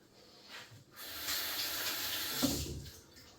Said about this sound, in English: I'm going to wet my hands so it doesn't stick.